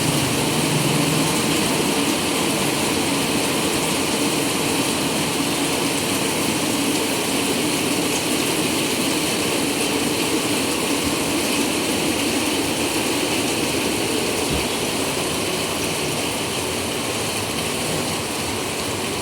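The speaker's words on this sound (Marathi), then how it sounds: "आता खूपच मोठा पाऊस आला आहे" Heavy rain pours down on a house in a dense, unbroken roar, loud and steady throughout with no pauses.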